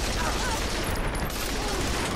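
Dense gunfire rattles in the video game Saints Row: The Third as a continuous loud barrage of rapid shots.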